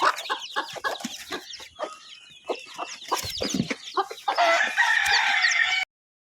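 A breeding set of black-and-white hens, chicks and roosters makes constant clucking and squawking, with a rooster crowing and a loud flurry of calls near the end, all close and busy.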